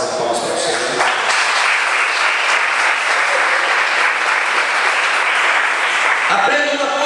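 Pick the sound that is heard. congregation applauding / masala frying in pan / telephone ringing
congregation applauding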